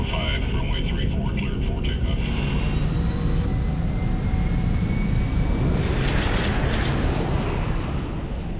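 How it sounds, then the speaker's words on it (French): A refuelled airliner takes off, its jet engines giving a loud continuous roar with a rising whine that fills the whole stretch. Background music or narration sits underneath. "L'avion est ravitaillé en carburant et autorisé à décoller."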